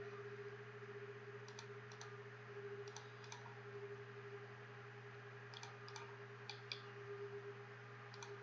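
Quiet keyboard typing during CAD drafting, entering a wall offset value: small clusters of soft key clicks at intervals over a steady electrical hum.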